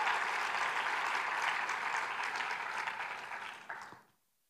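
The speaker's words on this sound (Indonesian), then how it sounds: "Berikan dulu tepuk tangan bagi Tuhan kita Yesus." A church congregation claps together during a worship service, a soft, fairly distant wash of applause that holds steady, then thins and dies away into silence near the end.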